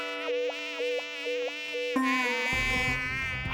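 A high, whining mosquito-like buzz rises and falls in short pulses, close and clear, joined at the end by a louder shift in tone.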